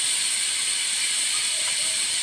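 A loud, continuous hiss of steam escaping under pressure, steady and close throughout.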